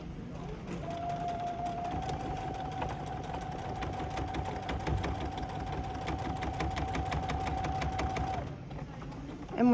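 A sewing machine stitches fabric in a steady, fast mechanical whir with an even rhythm. It runs continuously for about eight seconds, stops near the end, and no one talks over it.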